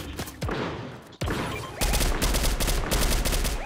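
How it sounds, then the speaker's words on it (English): Rapid gunfire in the Fortnite video game, bursts of shots from several weapons, a few single cracks first, then a dense, continuous fusillade at close range. "I hear people shooting over in this direction"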